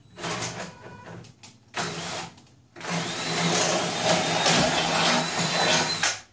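Power drill boring a 3/8-inch hole through a teardrop camper floor for carriage bolts, a loud steady whir in short bursts, then a longer continuous run of grinding drilling.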